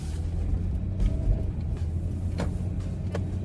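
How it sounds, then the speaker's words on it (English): Car being driven fast, a steady low rumble of engine and road noise from inside the cabin with a few faint knocks. "now you're gonna see my fast driving."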